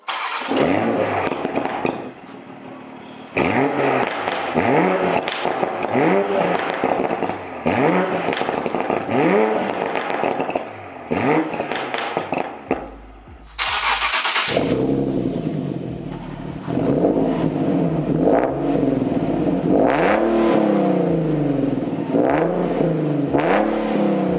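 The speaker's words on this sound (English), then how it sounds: "then we're gonna do a quick exhaust clip" Exhaust revs from a Nissan 370Z Nismo and a stock Toyota A90 Supra, rising and falling in repeated loud blips with popping crackle between them, close by and without talk.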